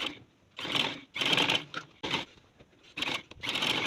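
A sewing machine stitches the collar of a kurti in several short bursts with brief pauses between runs, close and clear.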